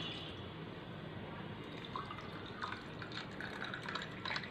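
Water pouring into a glass of lemon juice with floating ice cubes, a steady trickling, splashing stream with small drips, close and moderately loud with no talking.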